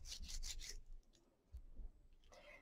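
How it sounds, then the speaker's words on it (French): Clay rolled into a coil between the palms: a brief, quiet rubbing swish close by, followed by faint handling sounds and another soft rub at the end. "je découpe un peu et je plie et je fais rouler entre mes mains"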